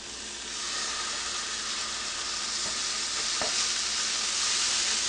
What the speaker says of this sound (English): I'm going to put it in and I'm going to begin breaking it up immediately.